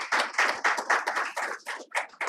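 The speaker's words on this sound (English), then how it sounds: "Please do give our guests a big round of applause." An audience applauds guests joining the stage at a road-safety conference, a dense patter of clapping hands from a modest crowd that rises and falls in waves, with no talk.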